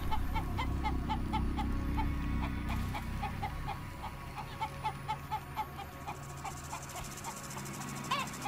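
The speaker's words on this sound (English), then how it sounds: "Fucking chicken." Chickens cluck repeatedly in City of Brass, a series of short, evenly spaced clucks over steady game ambience and a low rumble, fairly clear throughout.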